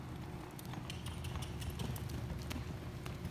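Hooves of a young colt being ridden beat in a steady, rhythmic clip-clop, fairly faint and set back from the listener.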